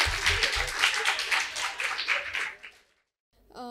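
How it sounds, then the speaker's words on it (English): An audience at a personality development session claps on request in a brisk burst lasting about two and a half seconds, then stops abruptly. A voice begins right after the clapping ends. "Clap, clap, clap. Please clap."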